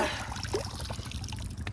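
Water pours and trickles steadily from a PTO-driven water pump on an Eicher 242 tractor, a faint continuous liquid rush with a low engine hum underneath.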